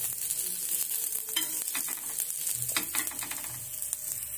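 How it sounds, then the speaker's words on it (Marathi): Green chillies sautéing in hot oil until blistered: a continuous close hiss and crackle with repeated quick spatula scrapes and taps against the pan, no voices. "चांगले डाग पडूपर्यंत आपल्याला ह्या मिरचीने असं परतून घ्यायचं आहे व्यवस्थित असं।"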